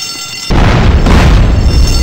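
A safe is blown open with explosives in Grand Theft Auto San Andreas, as one sudden loud boom after a moment of quiet followed by a dense roaring rumble that fills the rest of the clip.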